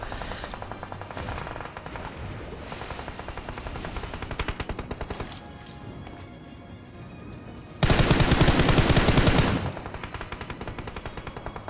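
Rapid automatic gunfire from a tank in the video game PUBG Mobile, dense rhythmic bursts that run on continuously, with a louder, harsher burst in the later part.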